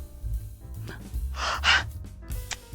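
A dog breathes heavily up close, a few loud huffing gasps and snorts coming in short bursts over a low background hum.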